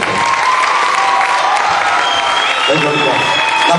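An audience at a live concert in the Teatro Cilea claps steadily for the performers, a dense wash of applause that fills the room, with some voices mixed in.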